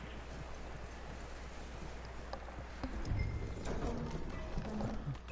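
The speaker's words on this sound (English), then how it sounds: "That looks like a decent horse." A horse in Red Dead Redemption 2 clip-clops over ground, its hoofbeats growing louder and closer in the second half amid quiet outdoor ambience, with no voices.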